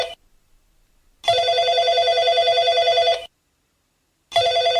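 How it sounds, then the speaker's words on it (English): A telephone rings in the video game BROX, with two loud, close electronic ring bursts separated by a pause and faint background before the first. "Does anybody want to answer the phone?"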